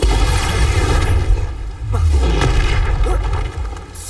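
Expulso spell explosions going off in Hogwarts Legacy, loud booming blasts with whooshing swells that repeat over a few seconds, and a voice shouting spell names over them.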